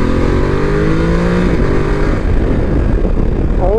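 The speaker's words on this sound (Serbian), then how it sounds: "zvuk ovog motora koji je fenomenalan" A 2024 Voge 900 DSX motorcycle engine drones steadily while being ridden through curves, its pitch rising and falling with throttle changes under constant wind rush, loud and close with no talking.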